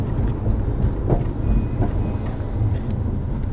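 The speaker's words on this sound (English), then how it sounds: "Hear that clunking?" Volkswagen Golf R with a clunking fault, heard from inside while driving: a steady low road rumble with a few dull knocks and clunks around the middle, fairly loud and continuous, no voices.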